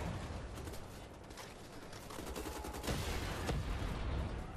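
Dense game gunfire from Wolfenstein The Old Blood, rapid bursts and volleys of shots crackling over a constant loud din, with no voices.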